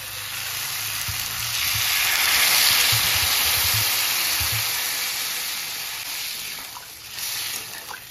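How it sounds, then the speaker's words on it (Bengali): Water is poured into a pan of sautéed, spiced potatoes for aloo dum, raising a loud sizzling hiss that swells and then slowly settles, with faint stirring knocks. "আলু কষানো হয়ে গেছে, আমি এবার জল দিয়ে দেবো।"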